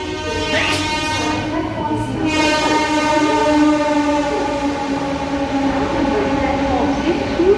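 A Kharagpur–Howrah local train rolls along steadily at night, with continuous loud wheel and carriage rumble and a sustained horn-like tone running alongside, heard close from inside the carriage throughout.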